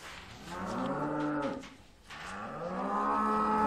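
A cow moos twice in long, drawn-out calls, the second after a brief pause, fairly close and clear with no talk over it.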